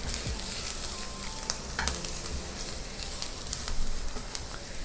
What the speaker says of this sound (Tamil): ஏன்னா மஷ்ரூம்ஸ் வந்து நல்லா பேன் ஹாட்டாக இருக்கும் போது ஆட் பண்ணிங்கன்னா அது நல்லா குக் ஆகும்